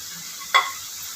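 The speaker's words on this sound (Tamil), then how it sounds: "நெக்ஸ்ட்டு இது கூட கரம் மசாலா சேர்த்து நல்லா கலந்து விட்டுக்கலாம்" A single short scrape of a spoon stirring capsicum gravy with garam masala in a pan, heard close against a faint steady sizzle.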